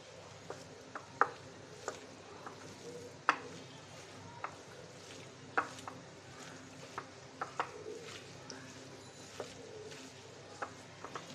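Mustard greens cooking in mustard oil in a pan: a low, faint sizzle under scattered sharp clicks and taps from stirring, irregularly spaced, with no talking.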